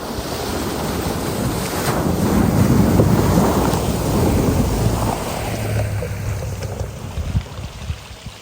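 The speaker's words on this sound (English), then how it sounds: "But there's a little water crossing coming up right here." Toyota Tundra TRD Pro pickup splashing through a water crossing, a loud, sustained rushing wash of water that swells and then tapers off, with low engine rumble underneath.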